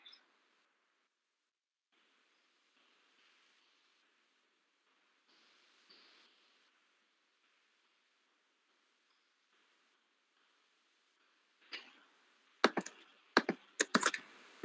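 Typing on a computer keyboard, mostly faint scattered taps at first, then a cluster of louder, sharper key clicks near the end, with no speech.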